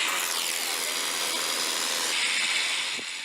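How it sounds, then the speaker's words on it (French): A power drill bores into a rock wall to set pitons, producing a loud, continuous high-pitched grinding whine close by that holds steady for a few seconds. "Armés d'une perceuse et de pitons, ils équipent la paroi"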